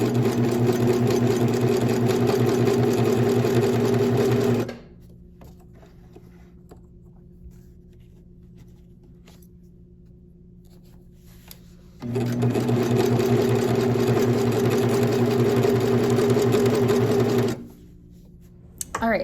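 A sewing machine stitches fabric in two long, steady, loud runs separated by a quiet pause, its motor humming with a fast mechanical rattle and stopping abruptly each time.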